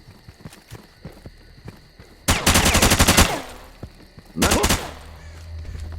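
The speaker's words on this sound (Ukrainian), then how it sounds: "стріляє з гаус гвинтівки" Two loud bursts of rapid automatic gauss rifle fire in the game S.T.A.L.K.E.R., each lasting about a second, separated by quieter footsteps and clicks of game action.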